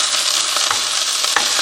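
Food sizzles loudly in a frying pan at a campsite and is stirred with a fork instead of a spatula, giving a constant close-up crackle with occasional scraping clicks from the fork against the pan.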